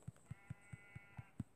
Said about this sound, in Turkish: İki tane beyaz koyun.